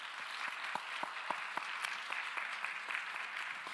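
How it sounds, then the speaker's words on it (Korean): A church congregation at a Sunday young-adults service claps steadily to welcome newcomers, a sustained patter of hands with sharper individual claps standing out, moderately distant and even throughout. "이 모든 분들을 위해서 우리 함께 박수로 환영하겠습니다."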